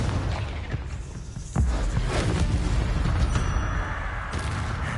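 A Confringo blasting spell goes off in Hogwarts Legacy with a deep booming explosion and a sudden low thud, followed by a sustained rumbling roar among other combat noise.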